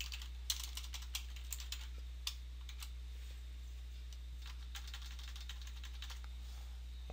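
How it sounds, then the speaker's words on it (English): Typing on a computer keyboard while entering HTML and CSS code, a quiet run of soft irregular key clicks with a few sharper taps, close and alone over low steady hum. "I'm going to simply type in pound nav list."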